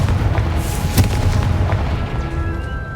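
A Confringo spell blast in the Hogwarts Legacy video game: a dense, booming explosion rumble with a sharp burst near the start, loud and continuous over a roaring game background, no talk.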